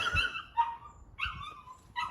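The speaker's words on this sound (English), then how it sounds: "that's the dog screaming in the background" A dog whines and yelps in short, high-pitched bursts, several cries spaced across a couple of seconds, moderately close.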